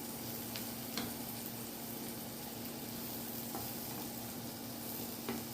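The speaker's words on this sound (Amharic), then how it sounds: "እንደዚህ አቁላለዋለሁ በደንብ አድርጌ" White onions frying in a pan, a continuous close sizzle with a faint steady hum and a few light clicks of stirring, no talking.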